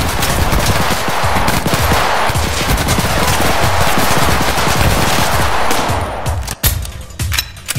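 A big gun firing in a Roblox hood game, rapid sustained machine-gun bursts, loud and close, rattling continuously for several seconds before a few scattered final shots.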